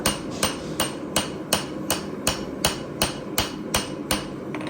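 A metal spatula is hammer forged on the flat of an anvil: about a dozen sharp, ringing hammer blows land in a steady, evenly spaced rhythm, close and loud, with no talking.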